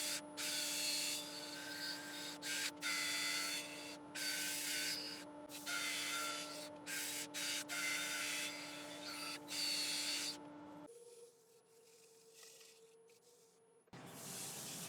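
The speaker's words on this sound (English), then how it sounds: "I'll get it sanded" Sandpaper rubs against an oak platter spinning on a woodturning lathe, in steady bursts with short pauses, over the lathe motor's constant hum. Near and fairly loud; the rubbing stops toward the end, leaving quieter motor noise.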